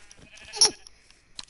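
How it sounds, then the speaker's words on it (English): A sheep in the Minecraft video game gives a single short bleat, clear and close, with faint game sounds around it. "I found a sheep!"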